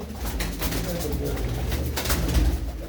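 Pigeons coo softly in low repeated murmurs under nearby talking and rustling background noise.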